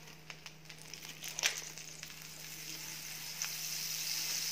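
Slices of bread for a cheese corn sandwich toast in butter on a pan, producing a steady, moderately quiet sizzle with occasional soft crackles and pops.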